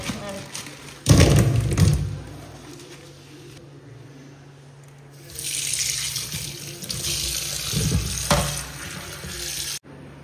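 Tap water runs in loud bursts into a sink while small bootai fish are being cleaned. The gushing stops and restarts, with a thud at the start, a short quiet gap and a voice at times underneath.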